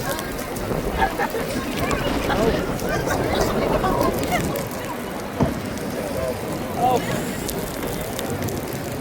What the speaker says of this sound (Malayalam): കാറ്റും മഴയും